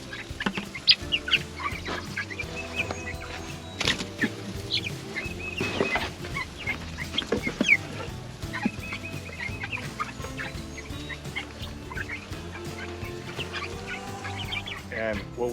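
Backyard chickens in a chicken tractor cluck and squawk continuously at close range, with a brief louder burst and scattered scratching noises, and no talking.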